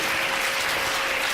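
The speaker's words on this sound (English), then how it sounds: "Big applause for them." An audience applauding a pair of participants at a charisma-building talk, steady dense clapping throughout, fairly loud and continuous with no voices.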